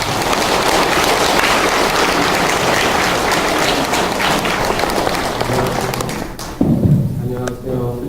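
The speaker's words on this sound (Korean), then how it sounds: "허규 비례도 신부님을 큰 박수로 모시겠습니다." A church education lecture audience gives a big round of applause to welcome a priest: sustained, dense clapping from a large crowd that fades out near the end, followed by a few thumps and a voice.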